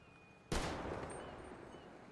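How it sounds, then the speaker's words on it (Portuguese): A single loud, sharp gunshot from the video game GTA 5 with the Redux mod, followed by a long booming echo that slowly fades. "Ó o tiro."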